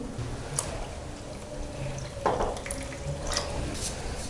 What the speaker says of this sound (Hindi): दूध डाल देंगे।